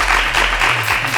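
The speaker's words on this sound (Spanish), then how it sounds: "Un aplauso por la visita de Emiliano" Audience applause during a Spanish-language television program, a dense continuous wash of clapping held at steady loudness with a low hum beneath it.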